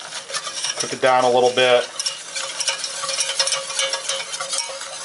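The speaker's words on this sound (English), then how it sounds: "And I'm going to switch to a whisk. I just want to mix this up." A whisk stirs flour into hot fat in a pan, making a roux for chicken fried steak gravy. Steady scraping and clinking run over a low sizzle, and a person speaks briefly.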